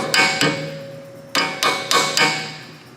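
A hammer taps a Volvo rear brake cotter pin backwards, striking metal six times in two quick groups. Each tap is close, bright and ringing, with a pause between the first pair and the next four.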